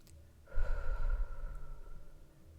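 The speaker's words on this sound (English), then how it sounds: "Take a deep breath and repeat after me" A deep breath drawn in and slowly let out during a guided affirmation exercise, one long breathy inhale-exhale, close and fairly loud, with no talking.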